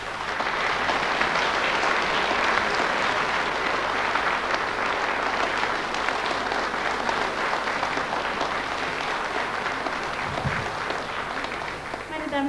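Sustained, dense applause from a concert hall audience at a live folk music broadcast in the Stadthalle Datteln. Steady and loud throughout, with no break in the clapping.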